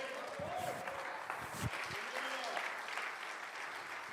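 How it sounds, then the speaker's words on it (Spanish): Church congregation applauding in praise of Jesus during a revival service, a steady wash of clapping at moderate level with voices calling out over it. "Dele aplauso a Jesús, por favor."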